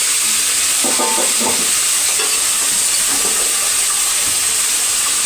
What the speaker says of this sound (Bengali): আলুটা ভাজা বসিয়ে নিই, আলুটা ভাজা হতে থাক